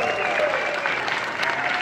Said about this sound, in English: You can guys give that round of applause if you want.